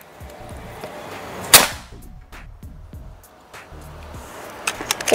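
A single sharp, loud crack from a Predator Bocap Black Army Phantom full-CNC PCP air rifle filled to 2700 PSI stands out against quiet background noise, with a few faint clicks near the end.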